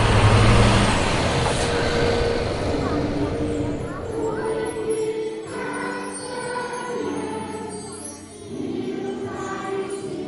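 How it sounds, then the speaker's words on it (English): A truck approaches at night on a dark highway, its engine rumbling steadily with a short air-brake hiss. The sound is fairly loud and continuous, with a slight dip near the end. "the headlights of another truck cut through the darkness"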